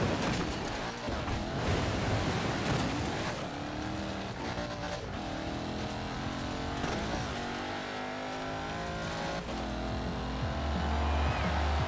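A Bowler car in Forza Horizon 4 drives with its engine roaring steadily and loudly throughout, the pitch rising and falling through gear changes, with tyre and road noise beneath it.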